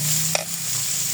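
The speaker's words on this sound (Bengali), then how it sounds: "পেঁয়াজটা ভালো মতো ভেজে নেব" Onions frying in a pan for a quick biryani made without biryani masala, with cardamom and cinnamon added to the oil; a steady close sizzle runs throughout, broken by one brief stirring clink.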